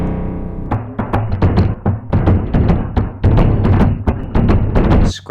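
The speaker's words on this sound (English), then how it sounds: "there are some really beautiful drum-type sounds that you can get from hitting it" Resonant drum-type strikes from hitting an experimental drum, a steady run of about a dozen close, loud thuds and hits with ringing low tones between them, played alone.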